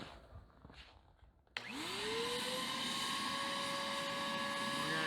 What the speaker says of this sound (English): And we're gonna hit our vacuum.